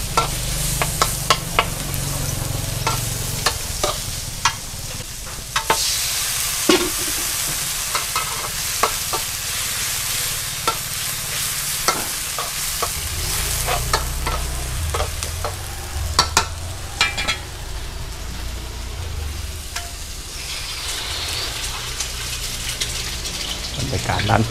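Kua kling with shrimp and pork belly is stir-fried in a hot pan at a shop, a loud steady sizzle broken by repeated sharp scrapes and clanks of the spatula against the pan.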